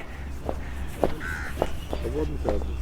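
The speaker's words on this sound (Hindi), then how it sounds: "कौवा भी साथ है कोयल के।" A crow caws repeatedly in the open, roughly every half second, clear against a steady background hum.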